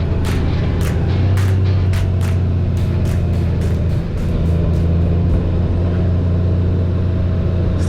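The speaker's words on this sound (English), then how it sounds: "Skid loader hogging the road up." A skid loader rolls along a rural Pennsylvania road as a vehicle passes it, a steady loud engine rumble and drone with a brief dip midway, no voices.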